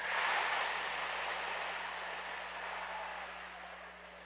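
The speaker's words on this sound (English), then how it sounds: "And now blow this breath away." Long, soft breath exhaled during a gentle yoga session, a steady airy whoosh close to the microphone that gradually fades over about four seconds, heard alone.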